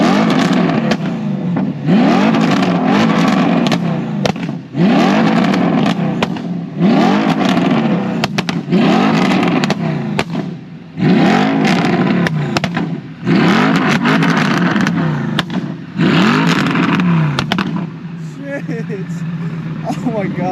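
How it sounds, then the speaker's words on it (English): A 2009 Audi R8 revs loudly and repeatedly at close range, with about eight sharp bursts of engine roar rising and falling in a steady rhythm and tapering off at the end. "this has got to be one of the loudest cars I've ever filmed"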